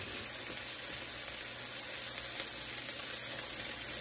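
Ground meat fries in a pan with ketchup stirred in, giving a steady, even sizzle that crackles continuously throughout with no talking.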